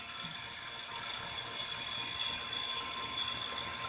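An A/C evacuation vacuum machine, hooked to a Honda Pilot air-conditioning system, runs with a steady mechanical hum and a high whine, constant and fairly quiet throughout.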